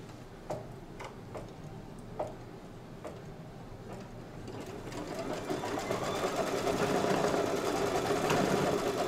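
An embroidery machine sews an applique placement line, its needle ticking in a steady rapid rhythm that grows louder and denser partway through, close and alone with no talk.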